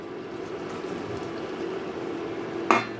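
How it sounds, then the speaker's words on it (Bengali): Fried potatoes and lentil dumplings are stirred into spices in a pan for a jackfruit curry, giving a low steady sizzle with one sharp metallic clink of a utensil near the end. "এখন আমি এর মধ্যে অ্যাড করে দেব ভেজে রাখা আলু আর বড়িটা ডালের বড়াটা"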